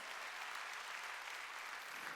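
A congregation applauds during a church sermon, steady dense clapping filling the space at a fairly quiet, even level with no voices on top.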